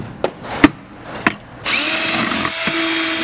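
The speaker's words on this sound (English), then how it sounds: "Hard to drill into." A power drill bores into a hard wall of a warehouse from a ladder: a few sharp knocks, then a loud, steady drilling whir that runs to the end.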